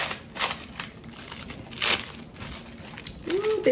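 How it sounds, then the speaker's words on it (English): Plastic wrap crinkles and crackles as it is peeled off a pair of clear-framed eyeglasses, coming in a few short bursts close by, with a brief voice sound near the end. "So I'm gonna try to get this plastic wrap off of it."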